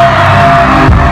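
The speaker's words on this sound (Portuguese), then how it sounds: "É o grito das meninas solteiras aí!" A crowd at a lambada stage show at a 2019 festival screams and cheers loudly as one sustained roar, near and dense, with no pauses.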